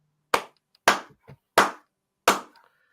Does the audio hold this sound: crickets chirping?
no